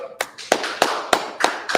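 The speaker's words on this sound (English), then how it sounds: "Let's clap it up." A small group of people clapping at a gathering, about six sharp, loud hand claps spaced roughly a third of a second apart in a steady rhythm, close by with nothing else heard.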